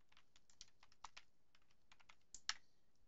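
A terminal command typed on a computer keyboard in Arch Linux, a steady patter of soft, fairly quiet keystrokes with a few sharper taps near the end, no voices.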